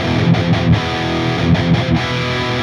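Electric guitar played straight through a small Tonex One micro pedal modeling a Mesa Boogie cabinet, giving a distorted, saturated tone with sustained notes and a few rhythmic accents, loud and close with no one talking.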